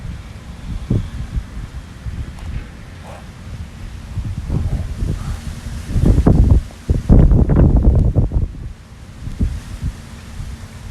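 Gusts of wind buffet the microphone in rumbling, uneven bursts, growing strongest in the middle before easing off, with no talking.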